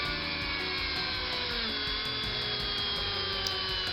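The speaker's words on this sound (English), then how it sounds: "Drilling the next one out." A power drill bores out a part on a custom Corvette in a workshop, running with a continuous high whine and a steady buzzing drone throughout.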